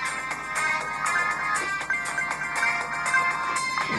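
Upbeat electronic music from the video game Subway Surfers plays steadily and fairly loud, with a repeating bright melody and beat and no talking over it.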